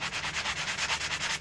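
A guitar's bridge area is sanded by hand in quick, even back-and-forth strokes, about a dozen rhythmic scrapes in a short burst, close and clear with no voices.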